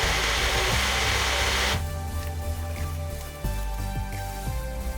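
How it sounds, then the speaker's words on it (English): Kitchen blender whirring through chickpea flour and yogurt batter for raw mango kadhi, a harsh high whine that cuts off abruptly, followed by lower, uneven motor churning with brief pulses. "I will blend it again"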